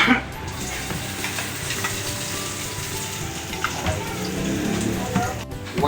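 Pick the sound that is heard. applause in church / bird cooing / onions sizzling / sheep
onions sizzling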